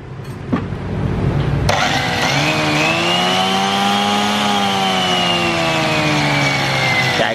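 A Japanese-market handheld electric cutting saw switches on after a couple of clicks and runs steadily, producing a loud, close motor whine that rises, holds, and slowly sags slightly in pitch, with no talk over it.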